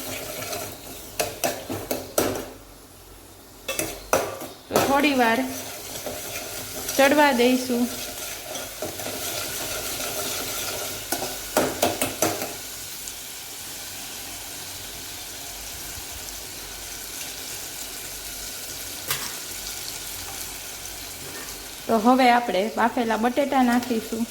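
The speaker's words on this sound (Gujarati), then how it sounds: "અને સારી રીતે ચમચાના મદદથી મિક્સ કરી લેશું" A spoon scrapes and stirs potato dry curry (bateta ni suki bhaji, with a little sugar) as it fries in a Gujarati home kitchen, giving repeated rattling scrapes and soft sizzling in bursts with quieter pauses between.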